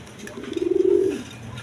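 A caged pigeon gives a single rolling coo, swelling and fading over about a second, close by against faint background room noise.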